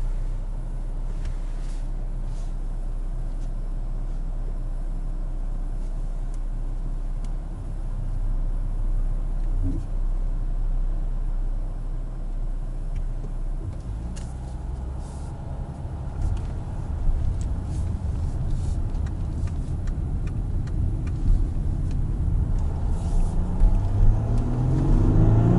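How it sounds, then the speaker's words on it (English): Volkswagen Touareg V6 TDI diesel with automatic transmission accelerating, a steady low engine rumble from inside the cabin that swells and grows rougher toward the end, with no talking over it. "So just to show you how powerful it is, I'm gonna give a little acceleration here."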